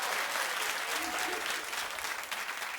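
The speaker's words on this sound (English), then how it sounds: "A couple of white people clapped at that too" Applause from a television talk show studio audience, a steady wash of clapping that holds at even strength for a few seconds with no one talking over it.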